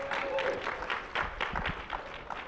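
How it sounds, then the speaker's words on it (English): An audience applauds its resident hero and director at a progressive organizing conference, a steady wash of many clapping hands with a faint hint of a voice underneath. "A round of applause for Jamie"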